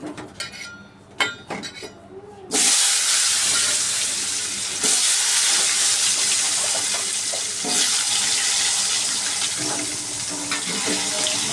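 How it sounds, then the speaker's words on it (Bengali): Potatoes sizzle loudly and steadily in hot oil after being dropped into the pan, a continuous close hiss with a few surges, following some brief clatter and handling noises. "তো আলু দিয়ে দিলাম, এগুলোকে আগে ভাজা করে নেই"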